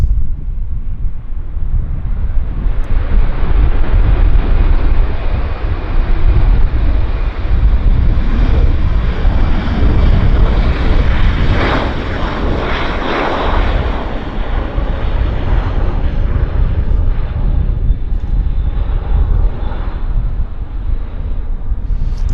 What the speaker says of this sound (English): Delta Airlines, it looks like. A321.